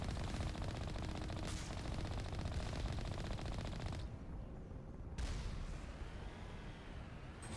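Turret gunfire rattles in the Mass Effect game, a loud sustained burst of rapid automatic shots that briefly drops away and then resumes amid combat noise.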